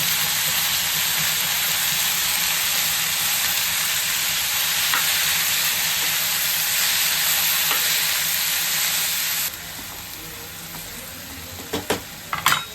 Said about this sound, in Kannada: ಈಗಲೇ ಟೊಮೆಟೊನ ಹಾಕ್ತಾ ಇದ್ದೀನಿ. ಹಾಗೆ ಪುದೀನ ಸೊಪ್ಪು